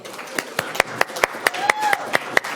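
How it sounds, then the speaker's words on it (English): Sharp, evenly spaced claps come in a quick steady rhythm from a corporate climate summit audience, moderately close and fairly faint, with no talking over them. "just a quick round of applause if you're feeling energized for the next session"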